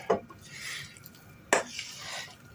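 Scraping, clinking spoon strokes against a bowl of khachapuri batter, with two sharper knocks amid a soft swishing stir, close and fairly quiet.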